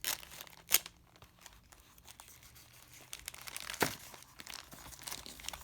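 Tough paper is torn and crinkled while a package of nail supplies is unboxed. Close, quiet tearing and crumpling comes in uneven bursts, with two sharper rips standing out and small rustles between them.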